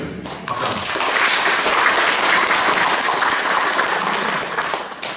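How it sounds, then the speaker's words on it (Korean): A church congregation claps together at an anniversary and ordination thanksgiving service, a dense, sustained round of applause lasting about five seconds and fading at the end. "박수합니다"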